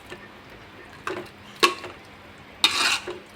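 A spoon stirs rice porridge made with fenugreek (uluva kanji) in a pot, a few soft scraping strokes that are quiet and close, separated by short pauses.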